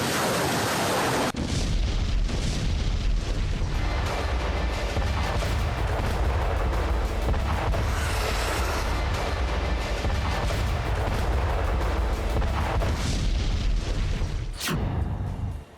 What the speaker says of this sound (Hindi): जब ये बेहिसाब बारूद बरसाया जा रहा था, जब यूक्रेन पर फिर से हमले तेज हो चुके हैं